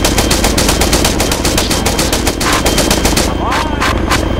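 Loud, sustained automatic gunfire in an Arma 3 ShackTac mission, a rapid unbroken stream of close shots that carries on throughout, with faint voices underneath.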